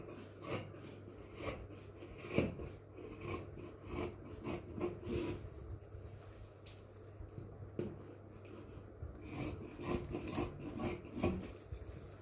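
Scissors cut through fabric for a nighty sleeve, giving faint, close rasping snips and rubbing of cloth in a quiet room, in irregular bursts.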